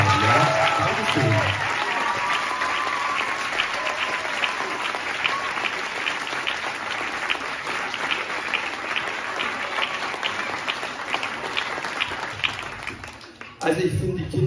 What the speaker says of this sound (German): einen großen Applaus für Leonie und Samuel